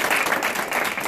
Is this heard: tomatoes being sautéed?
no